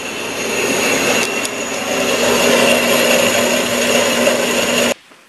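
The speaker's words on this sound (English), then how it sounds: "this bandsaw." A shop bandsaw cuts metal stock for a piston holding fixture, a loud, steady whining drone that runs continuously for about five seconds and then stops abruptly, leaving near silence.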